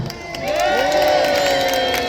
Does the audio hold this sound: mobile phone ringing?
no